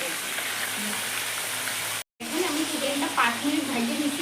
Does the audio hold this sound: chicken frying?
yes